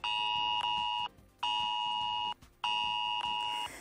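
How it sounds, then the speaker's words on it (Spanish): Emergency alert tone sent to mobile phones during an evacuation and alert drill: three loud, sustained electronic beeps, each about a second long, separated by short pauses. "Se mandará a la población un sonido a los teléfonos móviles como este"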